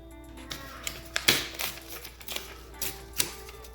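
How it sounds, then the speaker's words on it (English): Paper being cut down to size for a junk journal, a run of crisp, close snips and taps at an irregular rhythm with a faint hum underneath, no talking. "Let's cut that down to size."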